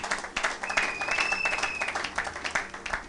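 Church congregation applauding during a worship service, a steady wash of many hands clapping throughout with a sustained high whistle or tone riding over it midway.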